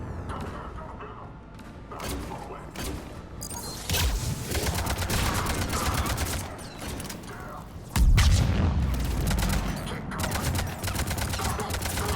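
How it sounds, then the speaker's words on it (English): Heavy cannon fire booms in rapid bursts amid a chaotic battle din in Mass Effect 3, with loud blasts hitting hardest near the end. "Those cannons have to be stopped."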